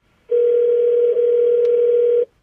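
A steady single-pitch dial tone sounds through the Bluetooth hands-free system of a 2011 Ford Fiesta as a call is placed. It plays loud and clear for about two seconds and then cuts off.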